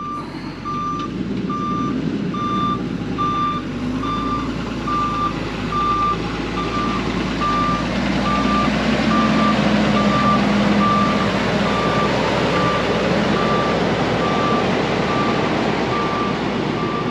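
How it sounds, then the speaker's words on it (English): A fully loaded dump truck on a homestead road-building site sounds its reversing alarm, a steady series of evenly spaced beeps repeating throughout over a constant low diesel rumble and broad outdoor engine noise. "We got to watch this fully loaded dump truck come in"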